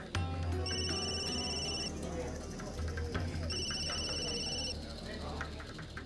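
A telephone rings in two electronic trilling bursts, each about a second long with a pause between, heard under a low background hum and indoor room tone.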